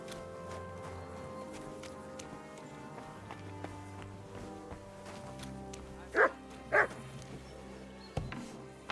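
A dog in Kingdom Come: Deliverance II gives two short, loud barks in quick succession, standing out against a steady bed of game music.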